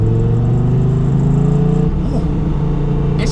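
Dodge Viper GTS pulling from low revs with a deep, loud, steady engine drone from inside the car, with a slight dip and a brief whine near the end.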